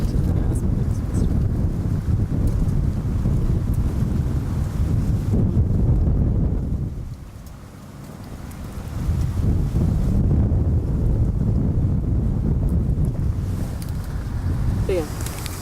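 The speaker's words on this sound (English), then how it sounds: "Let's wait for the wind." Wind buffets an outdoor microphone with steady low rumble throughout, easing briefly in the middle before gusting back up.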